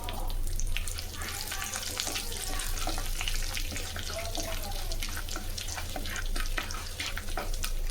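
Dried chili and curry leaves sizzle steadily in hot oil in a pan for Kerala fish curry, a constant close crackling hiss with faint stirring.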